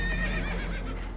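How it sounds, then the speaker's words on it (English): Spooked horses whinny loudly in Red Dead Redemption II during a chaotic boat ride on rough water, with several shrill neighs layered over a constant low rumble. "Horses are spooked, and we're taking on water."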